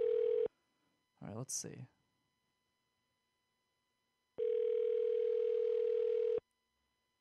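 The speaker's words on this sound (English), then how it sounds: "There we go, it's ringing." An outgoing telephone call produces a steady ringback tone, heard twice: a short burst, then a long two-second ring, with a brief spoken remark in the quiet gap between.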